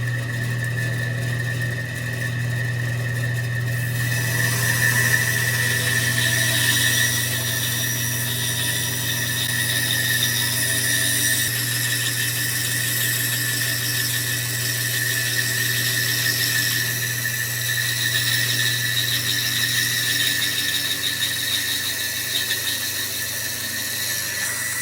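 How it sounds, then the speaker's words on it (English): A bandsaw runs steadily while cutting out a wooden jewel box pattern, a loud continuous motor hum with high whining blade noise that intensifies after a few seconds and holds near and constant throughout. "I'm going to take it over to the bandsaw first of all and cut out the actual pattern itself"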